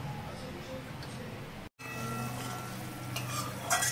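Tel jhal gravy for pabda fish bubbling in a pan, a steady low simmering hiss with faint stirring and utensil clinks, a brief pause midway, then continuing boil close by.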